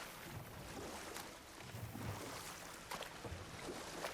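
Steady rushing water from waterfalls in God of War Ragnarok fills the scene with a constant, wind-like roar, broken only by a few faint thumps.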